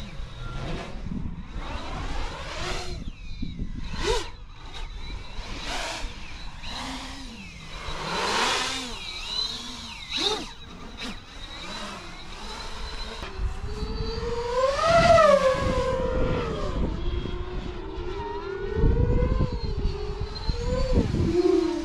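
A 12S beast-class racing drone's motors run at half throttle, a loud sustained whine that rises and falls in pitch as it passes near and away, continuous over the whole stretch.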